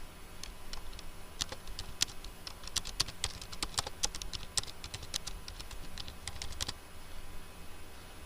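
Typing on a computer keyboard, a burst of quick, close, crisp key clicks in an irregular rhythm, dense in the middle and then stopping near the end, over faint background hum.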